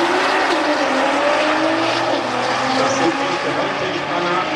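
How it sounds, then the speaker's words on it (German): A Nissan Skyline GTR race car at a drag race, with a loud, raspy engine roar and a broad rushing wash filling the whole stretch, sounding fairly close and continuous. "Auf der linken Seite der Skyline GTR."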